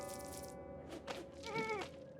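Sheep bleat in the Phobies game: a few wavering, nasal cries follow each other closely, clear and fairly faint against a soft, steady background.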